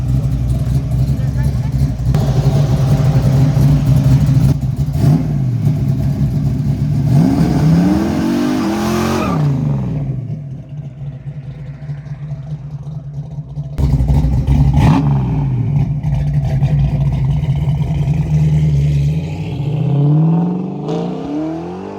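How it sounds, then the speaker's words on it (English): A Ford Maverick with a 347 engine and stick shift revs hard and climbs through the gears on a street, with loud rising engine sweeps that drop at each shift. The engine quiets briefly and then pulls again. Speech-like voices run under it. "there's no shift light, so just rev it a little bit higher"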